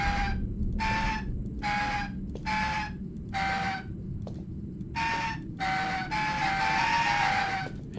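Pipes played as an instrument in The Land of Pain, giving a series of separate hooting, whistle-like tones of varying pitch, about eight distinct notes in a loose tune over a low steady background hum.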